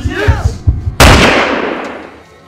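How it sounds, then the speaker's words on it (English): A single sharp gunshot blast at a residence rings out after a stretch of low rumbling thumps, loud and close, its echo decaying slowly over the next second and a half. "A neighbor has called police and reported gunshots fired."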